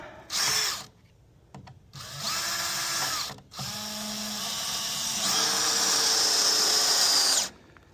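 Power drill running in bursts while boring into material, with short whirring runs separated by pauses and a long continuous high-pitched drilling run at the end, loud and close with no talk.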